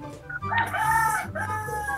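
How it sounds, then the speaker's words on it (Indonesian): A chicken in a shooter video game crows loudly in a sustained, wavering cock-a-doodle-doo close up, with soft background game sounds underneath. "Itu ayam siapa itu?"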